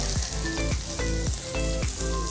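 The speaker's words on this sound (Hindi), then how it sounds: "जीरा लाल हो चुका है उसके बाद प्याज रखेंगे" Onion frying with cumin in hot refined oil, a dense, loud, steady sizzle with a few soft rhythmic stirring scrapes, close and without speech.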